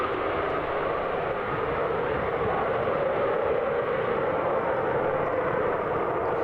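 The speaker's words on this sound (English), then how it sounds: "And the aircraft just keep on coming." Aircraft roar overhead in a D-Day 50th anniversary flypast, a loud, steady broadband engine drone filling the whole stretch with no breaks.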